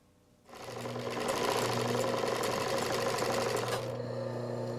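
A sewing machine runs steadily while stitching the folded ears of a handmade teddy bear, a loud, even mechanical whir that starts abruptly and holds for about three and a half seconds before easing off.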